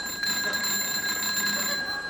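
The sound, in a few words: bell ringing, taken for a doorbell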